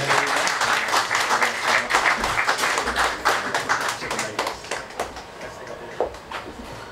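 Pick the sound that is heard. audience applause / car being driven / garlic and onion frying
audience applause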